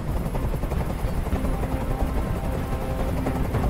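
Helicopter in the video game Detroit: Become Human: a steady, loud rotor chop with a constant whirring drone, continuous and close throughout.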